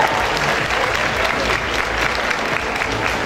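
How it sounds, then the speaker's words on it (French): Audience applause for beauty pageant contestant number 9 at a Miss Picardie event, a dense, steady wash of clapping throughout with no talk. "Applaudissements pour elle."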